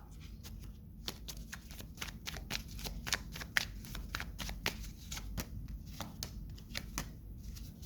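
A tarot card deck is shuffled up close, with a quick run of crisp, snapping card riffles and flicks in an uneven rhythm, quiet, with no voices over it.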